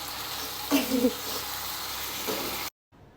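Food fries in a pan during home cooking, a steady, close, broadband sizzle with brief louder bursts of stirring, cutting off abruptly near the end.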